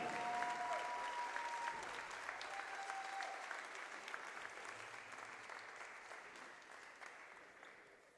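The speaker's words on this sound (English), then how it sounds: "let's give a round of applause to the 2019 All-Conference Carolinas Tournament team." Sustained crowd applause at the 2019 Conference Carolinas tournament finals between Barton and King, saluting the All-Conference tournament team; a dense, steady roar of clapping filling a gym, easing slightly toward the end with no talk over it.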